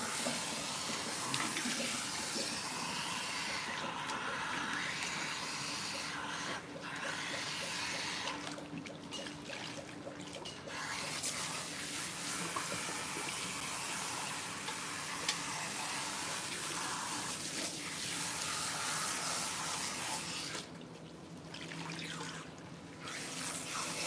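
Cool water running steadily from a salon sink faucet during a hair wash, a continuous moderate hiss and splash with brief interruptions.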